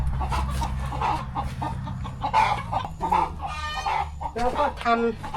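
Several free-range backyard chickens cluck and squawk nearby in short bursts at feeding time, with a low hum and faint voices in the background.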